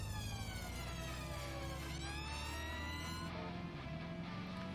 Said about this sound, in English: we got the ambulance sirens going.